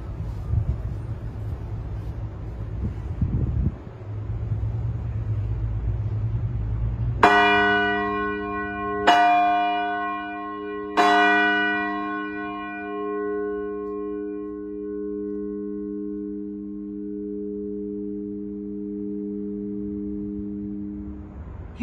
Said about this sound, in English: This one is strung through the bell wheel, and when pulled, it gets the wheel into motion, which then puts the bell into motion